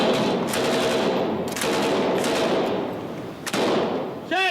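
Soldiers fire at an object drifting towards the shore in a comedy scene, with bursts of rifle and machine-gun fire rattling loudly in several volleys and a faint voice under the shots.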